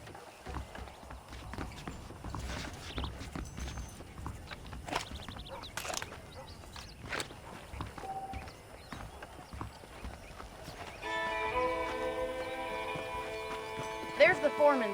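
Horse hooves clip-clop at a walking pace in the Western video game Red Dead Redemption, with occasional snorts and a whinny, while a voice talks and music rises near the end.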